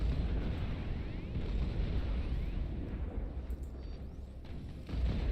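Plasma cannon fire in the real-time strategy game Beyond All Reason: a dense, continuous rumble of explosive booms and blasts, loud and sustained throughout with no talking.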